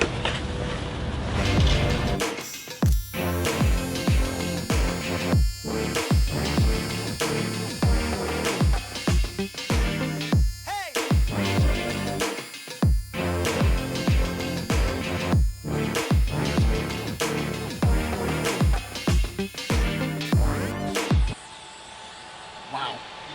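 TIG welder running, a steady buzzing hum with rhythmic pulsing and sharp repeated clicks throughout, close, with no talk over it.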